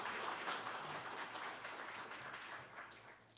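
Audience applause at a Buddhist spring dharma service held at the National Assembly, a dense patter of clapping that starts full and fades gradually over a few seconds.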